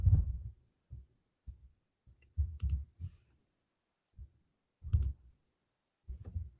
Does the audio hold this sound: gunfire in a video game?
no